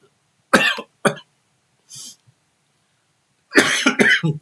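Several separate coughs from someone with a cold, two sharp ones close together, a faint one later, then a longer rough burst of coughing with throat clearing.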